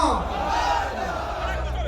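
A crowd at a Sai Chand statue unveiling shouts his name together in a loud, sustained roar of voices, close and dense for about two seconds.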